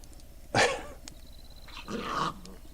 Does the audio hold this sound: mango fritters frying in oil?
no